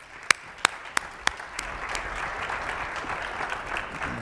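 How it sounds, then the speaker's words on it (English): An audience at a tax panel applauds the panelists: a few sharp, separate claps first, then a steady wash of clapping builds and holds at moderate loudness. "Please join me in a warm applause to our panelists."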